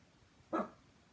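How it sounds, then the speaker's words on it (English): A single short bark from Stu, a Shih Tzu, sounds indoors at moderate distance, one brief burst standing out against a quiet room. "Oh, sorry, the dog again."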